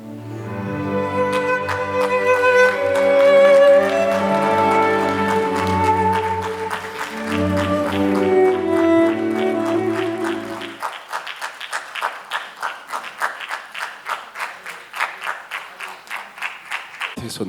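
After music from a Toba Tek Singh stage performance ends, the theatre audience breaks into rhythmic, evenly timed clapping that carries on loudly to the end.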